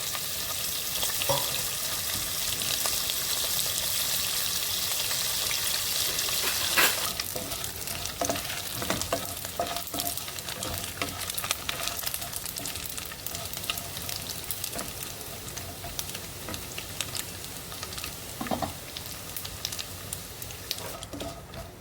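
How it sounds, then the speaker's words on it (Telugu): Salted dried anchovies hit hot oil in a kadai and fry with a loud, steady sizzle, then settle into continuous crackling and popping with occasional stirring, close and with no talk. "ఇప్పుడు ఈ ఉప్పు కలుపుకున్న ఎండి నెత్తళ్ళని ఈ కళాయిలో వేద్దాం."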